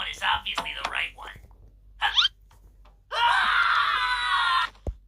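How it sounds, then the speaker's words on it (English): A shrill, sustained electronic-sounding scream from Funtime Foxy in the video game FNAF Sister Location blares for about a second and a half after a few short gasps and cries. "I think that scream is the scream from Sister Location. FNAF Sister Location. It might be Funtime Foxy"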